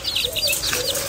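Serama chickens cluck in short, high, chirpy bursts for about a second, heard close up.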